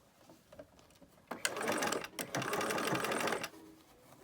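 A sewing machine stitches fabric in one continuous burst of rapid, even mechanical chatter lasting about two seconds, with a brief pause in the middle. Quiet handling sounds come before and after it.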